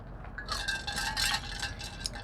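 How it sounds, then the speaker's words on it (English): Ice cubes clink in a drink with several light, bright taps and rattles close by, scattered irregularly over a couple of seconds. "There's ice cubes in it."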